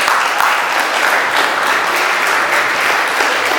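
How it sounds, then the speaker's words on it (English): A convention crowd gives a steady round of applause, dense overlapping clapping filling the hall at a constant level throughout. "give him a round of applause again"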